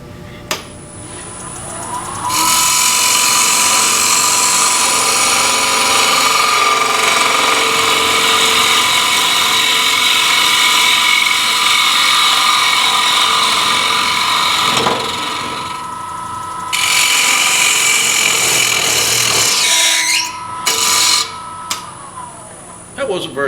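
A wood lathe spins a bowl blank while a bowl gouge cuts, a loud sustained shearing whine over the motor hum that dips briefly midway, then bogs and stops as the lathe is overpowered.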